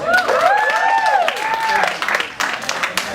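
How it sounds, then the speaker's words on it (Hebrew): A crowd claps for a dancer at a West Coast swing Jack & Jill competition while an announcer speaks over it, then the applause swells into a dense, scattered burst of hand claps once the voice stops. "מלא כפיים לדיוויד."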